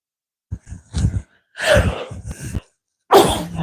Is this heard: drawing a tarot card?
no